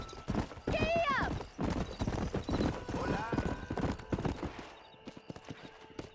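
Rapid rhythmic clip-clop of horse hooves galloping in Red Dead Redemption, close and loud, with a horse whinny and voices talking over it.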